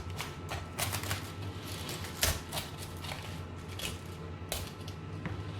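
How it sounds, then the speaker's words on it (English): A knife cuts the hard center core from a rinsed, quartered cabbage, producing a run of sharp, irregular clicks and taps against a cutting board, close and fairly faint. "Now we're going to cut away the center core, which is a hard piece."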